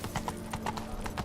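Roach the horse's hooves clip-clop in a steady walking rhythm in The Witcher 3, close and fairly loud, with a low ambient hum beneath.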